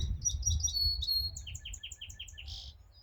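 Small birds chirp and tweet in quick repeated phrases, fairly close, over a low rumbling background.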